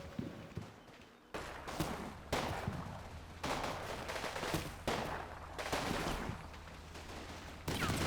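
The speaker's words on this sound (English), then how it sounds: "Suddenly, they come under fire from a 50 caliber machine gun mounted on an American half-track." A .50 caliber machine gun mounted on an American half-track fires in the Combat Mission Normandy video game, with several long, loud sustained bursts separated by short pauses, heavy and booming.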